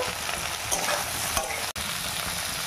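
Sliced pointed gourd frying in mustard or refined oil, a continuous crackling sizzle with stirring scrapes, close and steady, briefly dropping out for an instant near the end.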